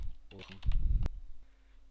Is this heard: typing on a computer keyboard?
yes